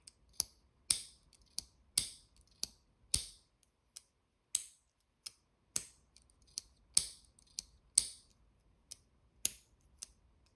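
Titanium Magnus ClickShift V2 pen mechanism clicked repeatedly up close, about twenty crisp, bright snaps in an uneven rhythm with short pauses between them, no voices.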